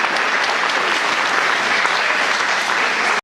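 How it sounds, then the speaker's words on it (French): A live audience applauds the musicians at a club's 40th anniversary celebration, a dense, steady wash of clapping that fills the whole stretch and cuts off abruptly at the end. "Applaudissements aux musiciens."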